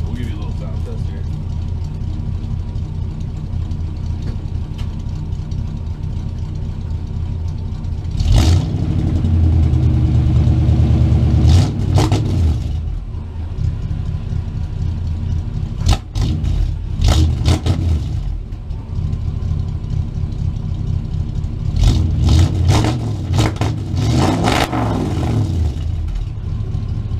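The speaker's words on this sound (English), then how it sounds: "No new exhaust yet, that's the same old exhaust." A K10 truck engine on its old exhaust, running cold: steady engine rumble broken by several loud revving bursts, with someone speaking at times.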